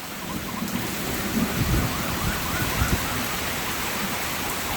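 A thunderstorm over a big forest brings steady heavy rain, with low thunder rumbles swelling and fading in the background.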